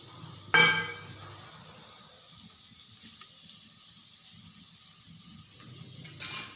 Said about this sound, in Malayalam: രണ്ട് സവാള ഞാൻ നുറുക്കി വെച്ചിട്ടുണ്ട് അത് ചെരിച്ചട്ടിയിലിടാൻ